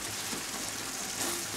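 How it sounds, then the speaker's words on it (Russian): Morel mushrooms frying in cream in a pan, stirred almost constantly, give a steady, close bubbling sizzle that carries on unbroken, with no talk over it. "Пожарились грибочки в сливках, постоянно практически помешивали."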